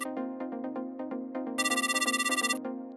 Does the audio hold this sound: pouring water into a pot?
no